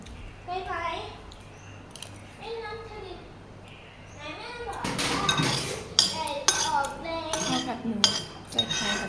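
Glasses and dishes clink and rattle sharply as a glass is washed in a home kitchen, a cluster of bright knocks growing busier in the second half, with children and adults talking throughout.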